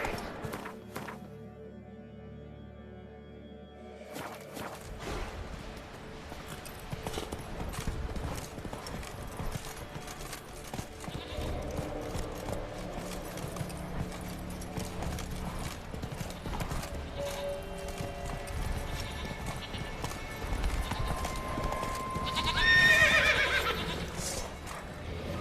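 The horse Roach gallops in The Witcher 3, steady rapid clip-clop hoofbeats over a game soundscape with a whinny, continuous and close, faint voice briefly present.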